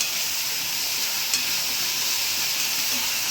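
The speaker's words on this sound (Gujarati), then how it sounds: "જો આ વઘાર કર્યો લસણનો" Garlic tempering for a Gujarati village-style lasaniya galka vegetable dish crackles and sizzles in hot oil, a steady bright hiss held close throughout without speech.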